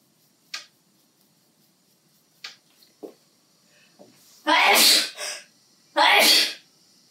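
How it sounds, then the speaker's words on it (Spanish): Two loud, close sneezes come one after the other in a quiet room, following a few faint clicks and taps. "He estornudado"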